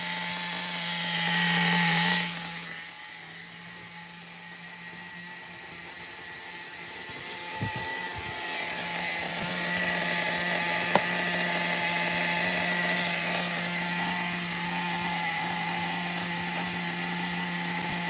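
A Megatech Nitro Razor RC car's nitro engine idles a little high, giving a steady, buzzing whine that runs throughout at moderate level, with a brief louder burst near the start.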